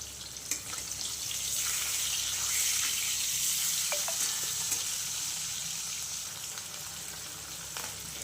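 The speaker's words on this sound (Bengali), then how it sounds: "মাছগুলোকে ভালো করে লাল লাল করে আমি মাছগুলোকে এবার ভেজে নেব" Fish sizzle and crackle steadily as they fry in hot oil for a fish dish with kohlrabi, with a few light clinks of utensils and no voices.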